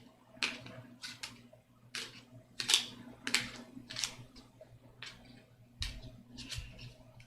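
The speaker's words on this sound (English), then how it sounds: "flip, and then shuffle it again" A deck of cards is shuffled and flipped by hand at close range. It makes a series of short, crisp riffling and snapping bursts in an uneven rhythm over a quiet room hum, with no talking.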